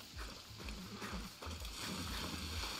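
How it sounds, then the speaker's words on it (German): Horse hooves clip-clop in a steady rhythm as a horse moves in the video game Far Cry 6, with regular low thuds over a continuous hiss of game ambience. "Nein, ich brauche das Pferd."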